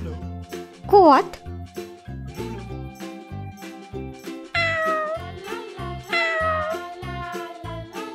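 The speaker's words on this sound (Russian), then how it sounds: "Кот." A cartoon farm cat meows three times, one quick rising mew early and two longer, whining meows later, all over light, plinking children's music.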